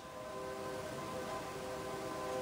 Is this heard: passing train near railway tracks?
yes